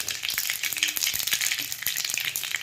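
Green chillies and tomatoes frying in hot oil with popping mustard seeds for a bateta pava breakfast, a steady close sizzle dotted with sharp crackles and spits, alone with no talk.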